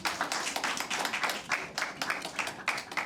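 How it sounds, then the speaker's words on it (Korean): Clapping from the audience at a church seminar on short-term mission trips to Japan, steady rhythmic hand claps in bursts, moderately loud and close, with no talking over it. "우리 하나님께 영광의 박수 올려드리겠습니다"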